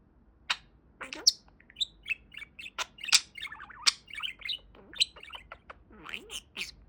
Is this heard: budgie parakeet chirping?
yes